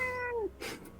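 A cat gives one clear, close meow with a falling pitch, followed by a short throaty second call, alone without talk.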